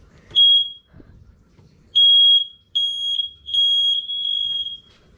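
Smoke and carbon monoxide alarm sounding during a system test: five loud, piercing high-pitched beeps, one early and four in a row, with faint rustling and handling noise between them.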